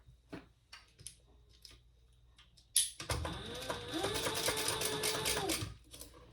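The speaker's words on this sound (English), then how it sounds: "we're going to sew that at the seam allowance in the pattern" A sewing machine stitches a seam on a crossbody bag, starting after a few small handling clicks and then running steadily in a close, rapid mechanical whir for a few seconds before stopping.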